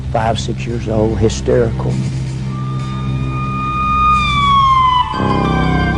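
An ambulance siren wails under a voice, its rising and falling tone holding steady, then sweeping down in pitch as the talking continues over it.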